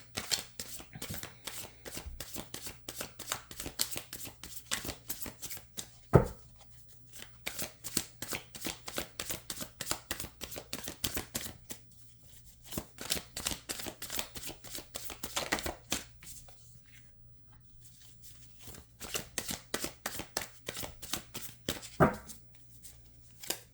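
Tarot cards shuffled by hand in a quiet room: a long run of fast, close riffling flutters and soft slaps, with brief pauses and a couple of sharper knocks as the deck is squared.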